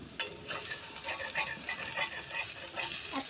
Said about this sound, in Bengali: এই দেখেন খুন্তি দিয়ে লাড়াচাড়া দিচ্ছে